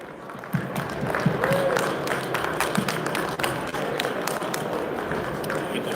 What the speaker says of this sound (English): let's get a nice big round of applause for our two panelists today